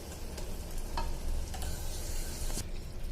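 Prawn masala mixture is poured into a biryani pot, giving a close, steady wet sizzle and soft scraping with a few sharp utensil clicks along the way.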